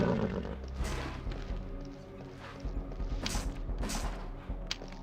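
Horses in the video game Summoner neigh and clatter amid a loud, busy mix of hoofbeats, crashes and game effects filling the scene.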